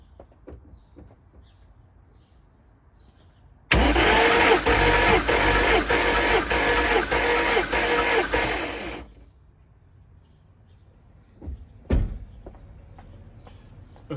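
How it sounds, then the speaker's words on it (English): A Mercedes AMG M113 V8 engine cranking over on the starter during a compression test, a loud rhythmic churning lasting about five seconds, with quiet clicks before and after and a short clunk later. "Let's crank this over"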